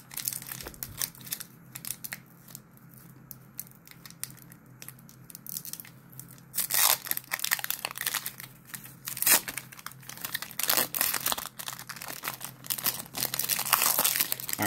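A Pokemon Crown Zenith booster pack is torn open up close, with loud crinkling foil and ripping. Quieter handling comes first, then the tearing bursts grow sharper and denser with no talking.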